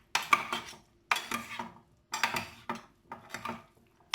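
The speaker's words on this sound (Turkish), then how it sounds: "Karıştırıyoruz." Purple cabbage salad with dissolved citric acid being stirred in a bowl, four separate bursts of crisp rustling and utensil scraping with short pauses between them, close and fairly quiet.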